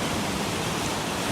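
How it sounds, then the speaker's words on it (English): Large sea waves break on the shore at a rocky fishing spot, making a loud, continuous, wash-like roar of surf with no pauses. "Big ass waves coming in."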